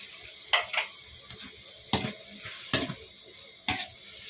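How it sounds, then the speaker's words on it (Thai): Squid and holy basil leaves stir-fry in a pan, with a soft constant sizzle punctuated by four or five sharp spatula scrapes and clanks at uneven intervals. "ก็ผัดให้ ใบกะเพรามันยุบจักหน่อยครับพี่น้องเอ้ย"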